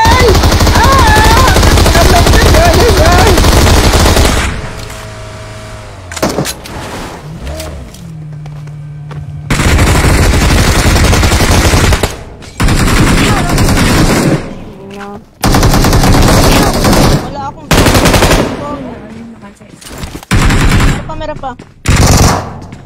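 Rapid machine-gun bursts in a multiplayer shooter video game, loud and close, firing in repeated volleys broken by short pauses.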